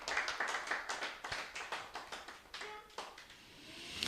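A church congregation claps and cheers together in praise of God, a brisk rhythmic burst of hand claps from a crowd that fades toward the end, heard without speech.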